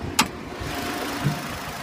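A 2012 Nissan Rogue's 2.5-liter four-cylinder engine idles with the hood open, giving a steady low mechanical hum close by, broken by a couple of brief clicks.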